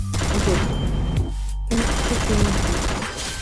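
Rapid automatic gunfire from a video game shooter, fired while crouching to land headshots, a continuous loud burst that briefly pauses and then resumes, with a voice speaking faintly underneath.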